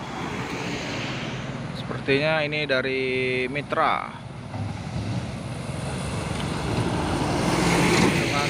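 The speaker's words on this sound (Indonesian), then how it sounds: "Dan ini juga ada satu nih truk Fuso super grid" A Mitsubishi Fuso Super Great truck rumbles along a road near Bukit Kodok with a steady roar of engine and traffic, and someone talks over it partway through.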